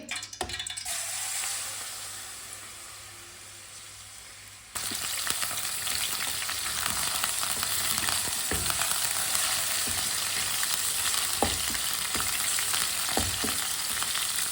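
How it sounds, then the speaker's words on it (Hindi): Goat meat fries in a hot pan while a spoon stirs it, producing a dense, steady sizzle broken by sharp scraping clicks of the spoon against the metal. "इसे 4-5 मिनट के लिए ऐसे ही चम्मच चलाते हुए पका लेंगे।"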